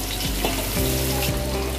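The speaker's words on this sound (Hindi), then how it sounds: "तेल हमारा गर्म हो चुका है, और अब हम अपनी प्याज के अंदर ऐड कर देंगे।" Onions frying in hot oil for veg dum biryani make a loud, continuous sizzle with stirring noise close by, and no one speaks.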